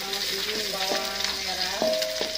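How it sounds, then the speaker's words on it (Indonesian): Shallots sautéing in a pan, a steady close sizzle with light stirring scrapes and faint tonal ringing, while a voice talks softly in the background. "Biasa kalau masak, kalau mau selalu ada bawang merah untuk ditumis"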